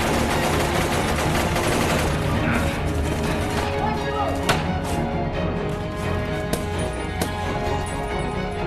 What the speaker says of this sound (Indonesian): Terjadi baku tembak di antara mereka.